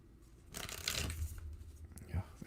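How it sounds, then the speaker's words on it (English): A short burst of Lenormand cards being riffled and shuffled, a crisp flurry of flicking paper near the microphone, ending with a soft tap. "I will shuffle up and deal here for you"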